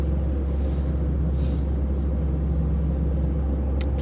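A de-icing road vehicle drives ahead on an icy snowbound road near Bolu, heard as a steady, loud low engine rumble with road noise from a following car, no talking.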